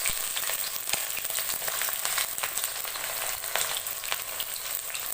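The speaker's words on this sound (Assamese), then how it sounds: "এয়া মোৰ তেল গৰম হৈছে আৰু এইবাৰ মই দিম পিঁয়াজ" Onions fry in hot oil with whole spices for a chicken dish, a dense, continuous crackling sizzle heard up close with no talking.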